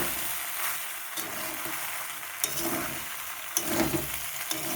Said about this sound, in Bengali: ম্যাগি মশলাটাকে ভালো করে মিশিয়ে নেব